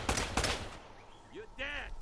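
Enemy gunfire in the video game Uncharted: a quick cluster of sharp shots cracks at the start, followed by quieter game effects and chirps, moderately loud over a faint background.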